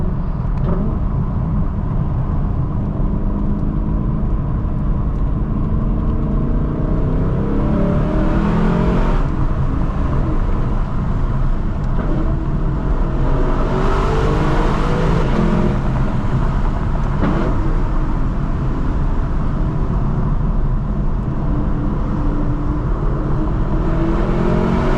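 A Lexus LC 500 drives fast through canyon roads, its engine droning loud and steady throughout, with revving surges and shifts in pitch as it accelerates through turns.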